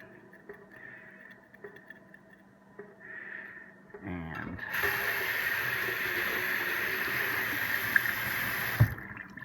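Vape atomizer parts from a Wismec Theorem rinsed under running water: quiet handling clicks, then a steady close rush of tap water lasting several seconds before it cuts off.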